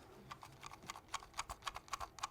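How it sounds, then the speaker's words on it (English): Rapid, faint, evenly spaced little clicks from a gaming mouse's notched scroll wheel being rolled, about a dozen ticks in quick succession, close and quiet. "They're just little notches, so you can tell it's not smooth."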